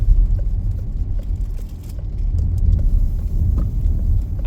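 A car drives on wet roads around North Shields on a rainy day, leaving a tesco car park; a steady, close low rumble of engine and tyre noise continues throughout with no talk.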